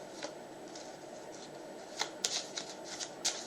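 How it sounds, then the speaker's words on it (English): Playing cards being riffle and overhand shuffled by hand, soft papery ruffling with several sharp bursts of riffles in the second half, close and fairly quiet. "I did some riffle shuffles, some overhand shuffles."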